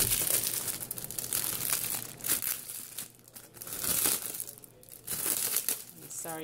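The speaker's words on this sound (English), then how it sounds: "Sorry for the crinkle." Plastic packaging crinkles and rustles in bursts while a planner is unboxed, loud and close, with brief pauses between handlings.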